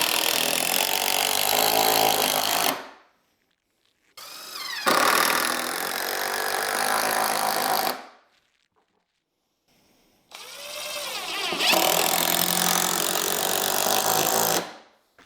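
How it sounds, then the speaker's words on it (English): A power driver runs in three long, loud, whirring bursts of a few seconds each to screw 2x4 boards in place, with near silence between the bursts. "I'm going to take some 2x4s, screw them to the front of this"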